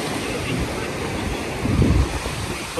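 Sea waves wash onto a Turkish beach in a steady broadband roar with wind buffeting the microphone, swelling briefly louder near the end of the short stretch.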